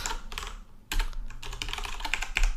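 Someone types code on a computer keyboard, close-up clicks and clacks in quick irregular bursts with a short pause partway through, heard alone without speech.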